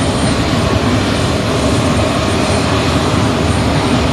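An aircraft engine runs while the plane taxis, a steady, loud, broadband roar that holds evenly throughout with no speech over it.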